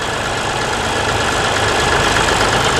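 Vintage tractor engine with a P3 diesel of about 40 horsepower, idling steadily at a steam rally, a continuous close, loud rumbling drone with no break and no talking.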